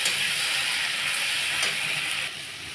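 Masala spice paste frying in a pan with potatoes and pointed gourd, giving a steady broad hiss and sizzle close by that drops slightly in level near the end, without any talk.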